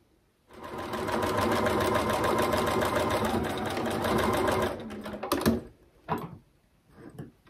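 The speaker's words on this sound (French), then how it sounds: "je vais venir coudre, voilà, au ras, ici, au ras de la sangle là, qui dépasse" A sewing machine runs steadily for about four seconds, stitching close along the edge of a protruding backpack strap, then stops with a few short bursts of handling and clicks afterward.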